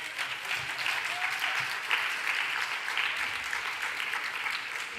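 An audience at a brainstorming meeting applauds, a dense, steady wash of many hands clapping together that stays at an even level for several seconds.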